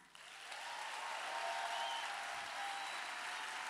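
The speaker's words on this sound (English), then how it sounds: "let's hear you cheer for each and every one of them." An audience at a dance awards gala cheers and applauds for a nominee, a dense, steady wash of clapping that rises quickly at the start and holds loud and continuous throughout.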